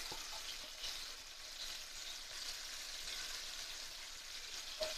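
Prawns frying in a pan with masala, a steady soft sizzle and crackle throughout, with a brief sharper tick near the end and no talking.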